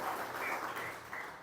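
A church congregation applauds together during a Sunday school service, a brief dense wash of clapping with no pauses, steady and moderately loud throughout.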